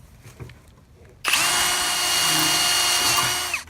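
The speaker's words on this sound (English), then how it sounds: "I'm just going to let the drill do the work" Power drill with a new 1/8 inch bit boring into a Honda Civic or Acura Integra rear suspension part during a spherical bushing kit install, a loud steady high-pitched whine lasting over two seconds before winding down.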